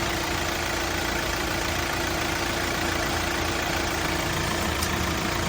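A parked Hyundai i20 car engine idles steadily with an even, continuous hum and no voices, the sound constant and close throughout.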